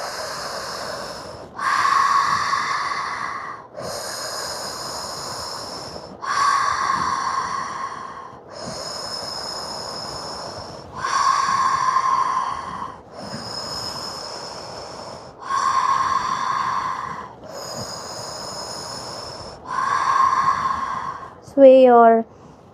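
A group breathes during an exercise class in repeated loud, airy breaths that rise and fall roughly every two seconds, close by and steady in rhythm, with a brief voice near the end.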